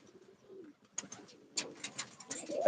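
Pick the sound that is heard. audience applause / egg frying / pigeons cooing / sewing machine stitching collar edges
pigeons cooing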